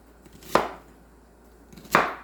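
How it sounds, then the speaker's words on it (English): A knife chops through onion halves on a cutting board in a stew kitchen, two sharp separate thunks heard alone and close. "Then I cut the half like this, and I just cut them"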